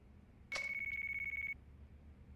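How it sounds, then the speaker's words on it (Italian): A phone rings in the video game Yakuza 4, a single clean electronic trill lasting about a second, with a slight warbling pulse, heard clearly against a quiet background. "squilla il telefono per tua fortuna"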